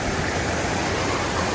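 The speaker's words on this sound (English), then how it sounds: "here's the top of the waterfall here. It's starting to get loud." Water roars over the top of a woodland waterfall in a dense, unbroken rush of loud white noise that fills the brief moment.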